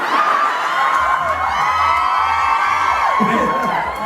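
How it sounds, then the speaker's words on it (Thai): A lively crowd at a soy milk campaign event in Siam Paragon, Bangkok, cheers and whoops loudly and continuously, with high excited shouts layered over a steady roar of voices. "ขอเสียงปรบมือหน่อยครับ"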